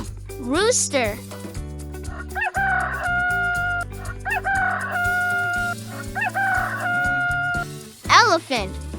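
A rooster crows loudly several times, the cock-a-doodle-doo rising and falling, set against a cheerful children's nursery-rhyme backing track with vocal melody between the calls.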